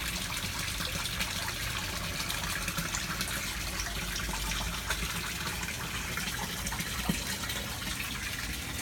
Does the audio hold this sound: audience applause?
no